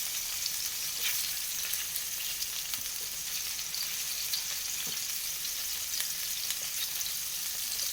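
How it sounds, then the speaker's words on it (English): Meatballs brown in a pan for spaghetti, producing a steady, even sizzle with faint pops scattered through it, close and constant from start to finish, with no talking. "the meatballs are browning off now, so I'm just trying to make sure that any of the pinkish areas are actually getting cooked"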